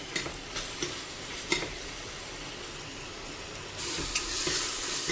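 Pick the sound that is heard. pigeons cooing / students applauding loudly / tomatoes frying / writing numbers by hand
tomatoes frying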